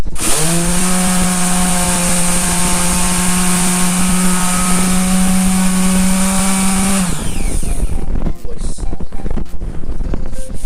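A Doliz BA 330 electric sander on pine wood, a loud, steady motor whine for about seven seconds that cuts off, followed by light scraping and knocking, no voices.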